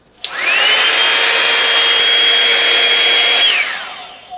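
A Revlon One-Step hot air straightener runs on its high heat setting with a loud, steady blowing whine that starts abruptly, holds evenly for about three seconds, then spins down and fades.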